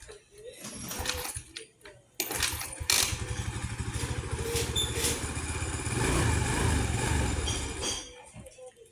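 A motorcycle engine cranks and sputters repeatedly, catching into a rough, uneven idle for several seconds, loud and close with brief gaps between attempts.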